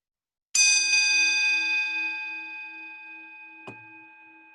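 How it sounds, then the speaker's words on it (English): A meditation bell at a Sunday service is struck once, ringing out clear and loud before fading slowly into silence, followed by a faint small knock near the end. "Let us now follow the sound of the bell into silence."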